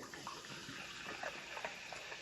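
Sparkling water pouring into a cup, a soft steady splashing trickle with faint fizzing, close and fairly quiet, no voices.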